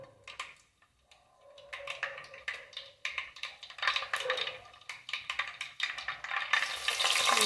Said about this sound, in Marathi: मोहरी टाकायची